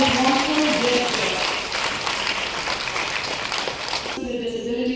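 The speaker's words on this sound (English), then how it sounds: "once again, let's applaud this wonderful gesture." Steady audience applause fills a formal ceremony hall, a dense continuous patter of many hands that eases slightly midway, with an amplified voice audible over the clapping near the end.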